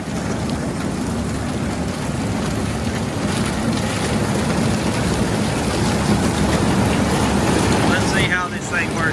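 A farm tractor runs during a corn harvest, its engine giving a steady, loud, low rumble that continues without a break throughout.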